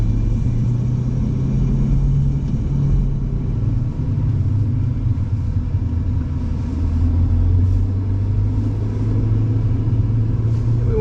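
A Ferrari 488 GTB pulls out of a tight pit lane onto a racetrack, its engine giving a steady, loud low rumble that builds slightly as the car accelerates, heard from inside the car.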